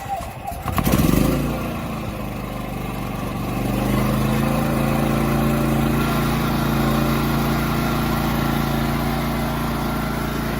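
Champion hybrid inverter generator, started by its electric starter, fires with a brief burst and then settles into a steady, loud engine drone that continues close by without a break.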